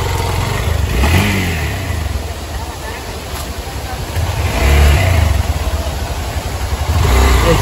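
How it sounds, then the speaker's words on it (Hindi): An XPulse motorcycle engine revving loudly and close as the bike is ridden out, with the mid-pitched roar rising and falling in two or three swells against steady outdoor noise. "तो देखते कैसे निकल रहे बाइक।"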